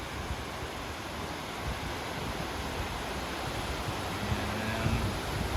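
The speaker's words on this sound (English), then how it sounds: "this waterfall is just called Bridal Veil Falls" Bridal Veil Falls, a waterfall in Alaska beside a river, heard as a steady broadband roar of falling water, constant and moderately distant with some wind, with no one talking.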